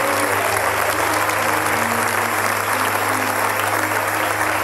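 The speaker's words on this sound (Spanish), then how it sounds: "Dele un aplauso con todo su corazón al Señor." Dense, loud applause from a church congregation fills the whole stretch as an even, continuous roar of many hands, with a faint hum of voices underneath.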